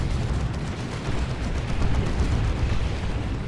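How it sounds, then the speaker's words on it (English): Dense rumbling barrage of explosions from a tank buster strike in the real-time strategy game Dawn of War 2, a continuous low booming roar with no clear gaps between blasts, loud and steady throughout. "there's the tank buster barrage"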